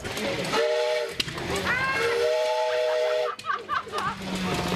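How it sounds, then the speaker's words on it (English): An antique steam engine's whistle blows in steady tones, sounding twice with a short break, over background machinery and some voices at the State Fair of Virginia. "ask them if they'd like to blow the steam whistle"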